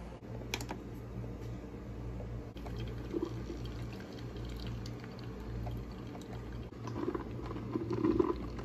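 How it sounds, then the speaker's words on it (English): Coffee maker brewing ground peanuts, a steady low gurgling and trickling hum running throughout at moderate level, with a few faint clicks and a brief louder bubbling near the end. "Now we're gonna run the coffee maker."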